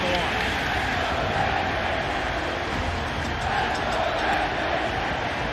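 A packed Yankee Stadium crowd roaring in the bottom of the eighth inning of a 2003 Yankees–Red Sox baseball game, a steady dense wall of cheering with a commentator talking over it.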